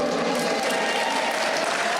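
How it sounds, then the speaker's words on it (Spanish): A church congregation claps loudly and steadily during worship, a dense, continuous wash of applause filling the hall for the whole moment. "Usted puede darle un fuerte aplauso a Jesucristo nuestro Señor"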